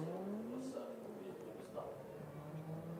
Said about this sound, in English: The launch of an Audi Quattro.